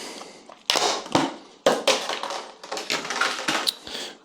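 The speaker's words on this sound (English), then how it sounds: "let me just pop this RAM in" Clicks and taps from RAM sticks being pressed into the DIMM slots of a PC motherboard during a first-time build: several sharp, close snaps and knocks at irregular intervals, with quieter handling rustle between them.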